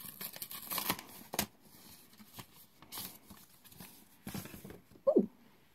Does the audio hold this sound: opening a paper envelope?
yes